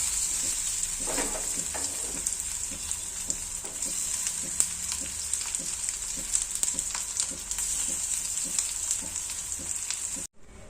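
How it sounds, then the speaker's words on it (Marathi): Colocasia leaf rolls (aluvadi) frying in hot oil in a pan, a steady close sizzle with faint rhythmic crackles and stirring throughout, cutting off abruptly at the end. "छान अशा खरपूस वड्या तळणार आहे।"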